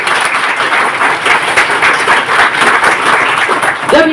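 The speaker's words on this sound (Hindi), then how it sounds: "मैं चाहूंगा उनके लिए एक शानदार ताली होनी चाहिए" A seminar audience at a marketing session breaks into loud applause, many hands clapping in a dense, close, continuous roar, with a brief voice rising at the very end.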